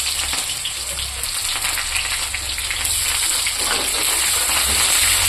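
Onions frying hard in hot oil in a wok for a Bengali fish-and-radish dish, a dense, steady crackling sizzle close by that brightens and grows louder partway through, with no talking.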